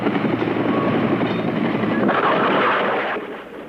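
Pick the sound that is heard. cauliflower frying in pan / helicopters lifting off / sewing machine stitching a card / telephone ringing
helicopters lifting off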